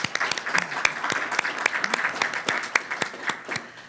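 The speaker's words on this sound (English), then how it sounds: "I just wanna give credit and have you all give a show of hands or a round of applause to Dr. Brianne Davila, to her team" Dense, steady audience applause fills a first-generation graduate school event, many sharp overlapping claps sounding close and loud throughout with no voices above them.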